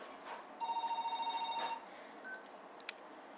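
A telephone rings with one long warbling electronic trill, close and clear in a quiet kitchen during breakfast preparation, followed by a short chirp and a soft click.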